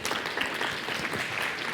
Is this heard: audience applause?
yes